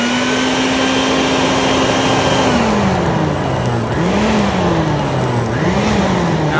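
An air blower feeding a small blacksmithing forge roars steadily and close, its pitch holding, then sagging and climbing again as it is pulsed on and off.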